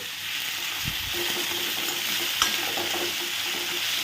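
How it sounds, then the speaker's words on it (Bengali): Beans, potato and carrot with a little salt frying in a pan give a steady hissing sizzle, with a few soft scrapes and one sharper knock as they are stirred, close by and without speech. "একটু নাড়াচাড়া করে ঢাকা দিয়ে দেবো।"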